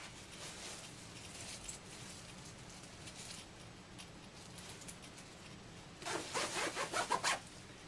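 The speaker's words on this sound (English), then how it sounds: "and then I zip it up." A zipper on a garment bag is drawn closed in a few quick, rasping pulls near the end, after a stretch of quiet rustling and rubbing of fabric.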